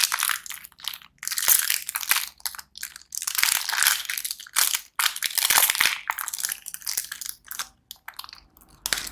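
Crinkly plastic wrapper of a Frozen-themed Elsa lollipop candy package being torn open and crumpled by hand, a busy run of close, loud crunching bursts separated by short pauses.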